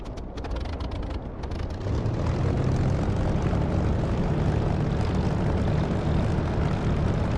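A steady, loud aircraft engine drone swells and holds during takeoff in the DCS flight simulator, a dense continuous roar with no voices.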